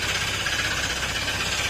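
A Honda ADV160 motorcycle engine with a failing crankshaft and connecting rod from oil problems runs steadily with a rapid, continuous knocking rattle, loud and close, with no voices.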